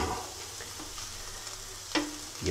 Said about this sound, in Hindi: अब इसको फुल डन करने के लिए मेरे को दूसरी साइड पकाना पड़ेगा